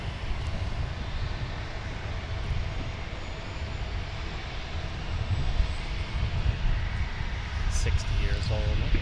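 A fixed-wing airliner on final approach at Portland International Airport gives a steady, loud low engine roar that builds slightly toward the end, with people chatting faintly over it.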